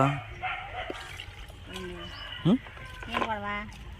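Village dogs give a few short, sharp barks and yips at a distance, scattered among people talking and a faint trickle of water.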